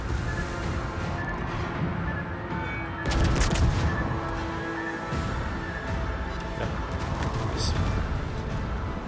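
Heavy battleship guns of a US T6 New Mexico in World of Warships boom in loud salvos over constant engine and sea rumble, with a strong burst near the middle and a voice speaking underneath.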